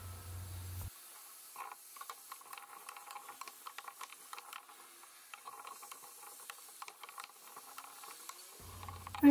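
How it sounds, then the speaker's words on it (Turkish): Chopped vegetables including celery, quince, carrot and potato sautéing in a pan, a faint steady hiss and light sizzle with scattered pops, the pan's sizzle quieter in the middle and fuller at start and end. "Doğradığım sebzeleri ekleyerek şöyle 1-2 dakika kavuralım."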